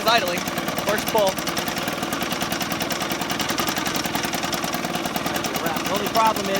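A 1968 Sears Clinton 3.5 hp small engine idles steadily with a rapid, even putter that holds loud and close throughout, with faint talking mixed in at moments.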